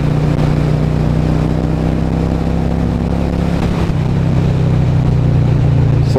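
Yamaha Dragstar 650 motorcycle on a ride, its engine droning loud and close with a steady tone that dips briefly as it shifts gears, with no voices.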